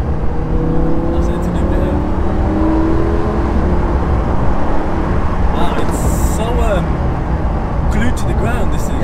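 A Lamborghini Huracan with a 610 bhp V10 roars loudly while driving, the engine note swelling as it revs up, with road and wind noise beneath and someone talking over it.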